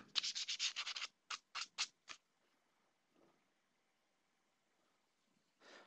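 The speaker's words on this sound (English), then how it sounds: "Just give it a real good scuff." A PVC/Sintra armor plate surface being scuffed hard, a quick run of close, harsh rasping strokes, then a few separate strokes and a long quiet stretch before one last scrape.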